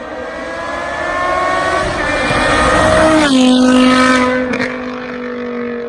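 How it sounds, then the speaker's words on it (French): A 2000s BMW M5 E60 with a 5-litre naturally aspirated V10 producing 507 horsepower passes loudly, its high harmonic engine whine rising in pitch and then sliding down as it goes by, with a second engine note following close behind. "V10 atmosphérique de 5 litres de cylindrée développant 507 chevaux au régime de 7750 tours minute"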